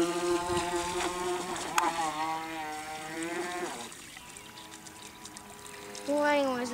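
A Polaris remote-control sea plane runs on water, its small engine buzzing in wavering tones that rise and fall across the clip, easing off midway then surging loud again near the end, with voices talking over it.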